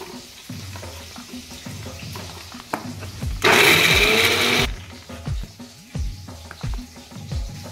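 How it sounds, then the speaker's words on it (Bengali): A kitchen mixer grinder whirs loudly for about a second as it grinds green chilies, ginger, garlic and onion into a paste. Clattering and scraping kitchen sounds come before and after. "কাঁচা লঙ্কা, আদা, রসুনের সঙ্গেই আমি পেঁয়াজটা দিয়ে দিলাম। আমি এইভাবে সব একসঙ্গে পিষে নিলাম।"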